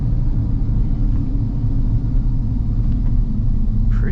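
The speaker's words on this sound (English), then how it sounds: "It's a strong very strong acceleration." A 2024 Hummer SUV accelerating hard, heard from inside as a loud, steady low rumble of road and drivetrain noise that holds evenly throughout, with no talk.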